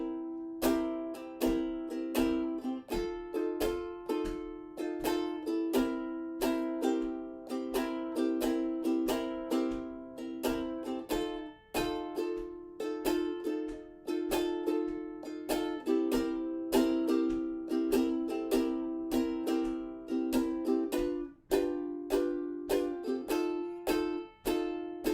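A ukulele strums a 12-bar blues progression in C using 7th chords, steady rhythmic strokes repeating evenly for the whole passage, played alone and close with no talking.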